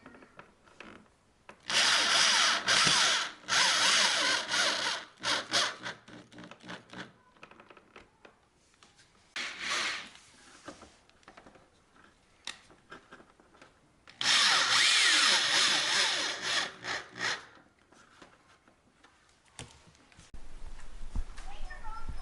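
A power drill whirs in two long bursts with short stop-start trigger pulls as fasteners are driven to mount a front lip under a car, a person talking between the bursts.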